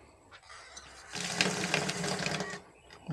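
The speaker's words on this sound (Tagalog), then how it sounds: "Oh, malakas ang tubig dito." A campsite tap is opened to a strong, rushing flow of water that splashes steadily for about a second and a half before cutting back, with faint clinks around it.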